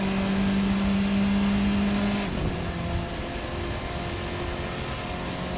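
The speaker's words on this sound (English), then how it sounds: "If I didn't hear the whoosh as the boost pressure builds, and if I didn't hear the chirp from the wastegate as we got out of the throttle" A turbocharged Formula RSS 4 race car engine in a racing sim game holds a steady high drone, then cuts off abruptly partway through, leaving a lower, quieter engine hum.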